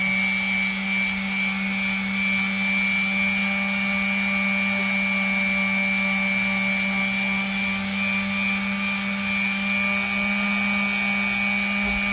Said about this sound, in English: So now that I have my sander out, this is a 220 grit. I'm gonna see how it works and see if it sands it.